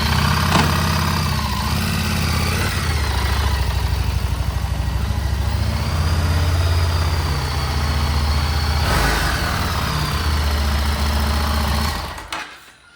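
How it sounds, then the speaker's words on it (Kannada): A motorcycle engine runs steadily at close range, a continuous rattling idle that holds for several seconds before cutting off abruptly near the end. "ನಾನು ಬೈಕ್ ಬಿಡ್ತೀನಿ ನೋಡಿ."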